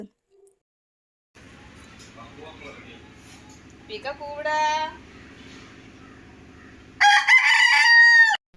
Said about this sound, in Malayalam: പിന്നെയും കൂവിട്ടോ കൊക്കരക്കോ കൂവിട്ടോ